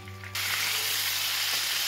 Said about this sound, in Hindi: इसमें हम अपने पनीर को थोड़ा हल्का सा फ्राई कर लेंगे।